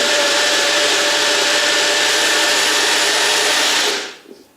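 An electric blender whirs loudly at a steady, continuous pitch while blending hot sauce ingredients, then cuts off and winds down near the end.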